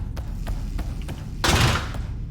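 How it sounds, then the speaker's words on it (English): A laser cannon fires in a video game: a run of soft rhythmic thuds, then one loud, bright burst of noise, then more faint thumps after it. "Guessing that's laser cannon."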